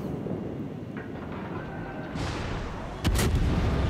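Ship guns fire in the naval battle game World of Warships, with heavy booming blasts over a rumbling battle background, one swelling at mid-point and a louder sharp burst near the end.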